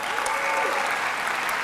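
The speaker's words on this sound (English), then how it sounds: "stand and receive the applause they so deserve" Sustained applause from a graduation ceremony audience honoring graduating peer tutors, dense steady clapping filling the hall for the whole moment without a break.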